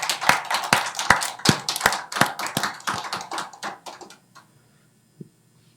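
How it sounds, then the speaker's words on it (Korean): A church congregation at a Wednesday worship service claps in a quick, steady rhythm of sharp hand strikes that gradually thin out and stop, leaving near silence with one last stray clap. "우리의 왕이 되신 예수님께 박수로 영광 올려드립니다."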